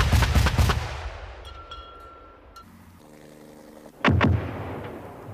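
A Bofors anti-aircraft gun firing 3P proximity-fused ammunition: loud single booming shots, then a quieter stretch with faint metallic clinks, then another heavy blast, outdoors with no talk.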